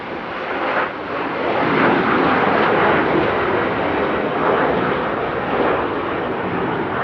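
Fixed-wing airliner taking off from runway 09 at Amsterdam airport, a loud, steady broadband jet roar that swells and holds close throughout with no talk over it.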